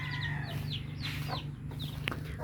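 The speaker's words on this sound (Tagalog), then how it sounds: "Ayaw lumabas yung manok." Chickens cluck and squawk in short repeated bursts, close by, over a steady low mechanical hum.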